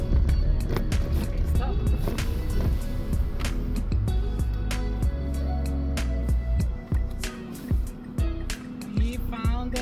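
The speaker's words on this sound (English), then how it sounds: "It's a gravel road, so it's a little noisy, a little dusty." A vehicle rolls along a gravel road in Badlands National Park, a loud, steady rumble close by with scattered clicks and rattles of stones striking underneath.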